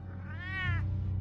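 A single rising-and-falling meow from a cat in a Batman video game, close and clear over a low background hum.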